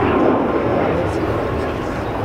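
A Spanish Navy AV-8B Harrier jet roars continuously at the 2014 Farnborough International Airshow, a loud, steady broadband rumble with a voice talking over it.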